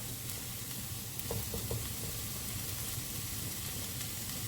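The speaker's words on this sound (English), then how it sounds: "We'll just let that cook out for a moment" Tomato puree frying in a pan gives a steady close sizzle and hiss that carries on without a break, with a few faint stirring clicks and no voices.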